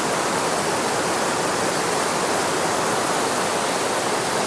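A waterfall rushes in a dense, unbroken roar, loud and close, with no other sounds.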